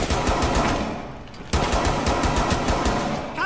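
Sustained automatic gunfire in Rainbow Six Siege, loud and rapid, rattling steadily with a brief dip before bursting back at full volume and continuing to the end.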